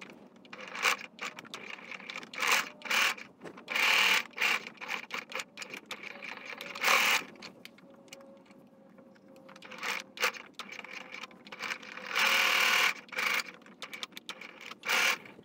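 A sewing machine stitches white and dark fabric for a designer face mask: rapid mechanical clatter in uneven bursts with brief stops between runs, close and moderately loud, with no talk.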